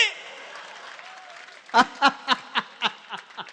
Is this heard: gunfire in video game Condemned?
no